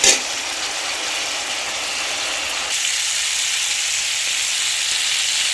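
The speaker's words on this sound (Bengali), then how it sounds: "এখন ভালো করে মশলাটাকে ভেজে নেব।" Spices fry steadily in a hot pan for a Bengali home-cooked dish, a loud continuous sizzle that shifts slightly partway through, with no talking.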